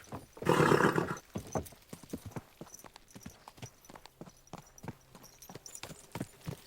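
A horse in the video game Kingdom Come: Deliverance II whinnies loudly, followed by the steady clip-clop of hooves walking at a slow, even pace, close by.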